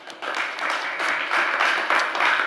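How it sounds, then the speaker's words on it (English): An audience applauds a panel at a conference on green shipping, a steady wash of clapping from a crowd that swells slightly and holds throughout. "Give them an applause."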